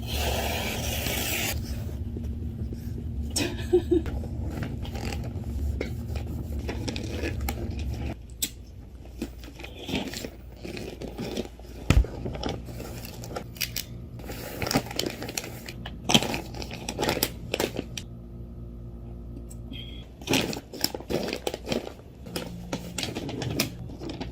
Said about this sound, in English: I'm gonna wrap up a few more bits and pieces since I have the paper out